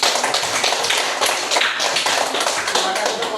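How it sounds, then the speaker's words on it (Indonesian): Students in a class clap together for a group, a loud, close, continuous patter of hands that holds steady throughout. "tepuk tangan lagi untuk kelompok 1"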